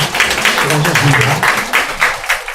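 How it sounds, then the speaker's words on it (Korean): Church congregation applauding to welcome a couple and their newborn baby, dense steady clapping throughout, fairly close and loud, with a voice speaking over it. "예, 큰 박수로 환영하도록 하겠습니다."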